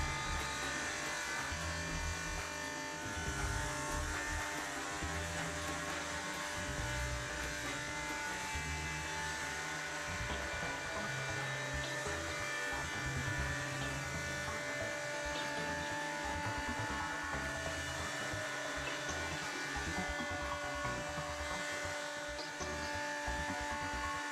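A BDS AutoCUT 500 plate beveling machine mills a steel plate edge with a steady, dense grinding whine that runs unbroken and loud throughout.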